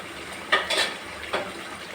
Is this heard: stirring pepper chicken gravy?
yes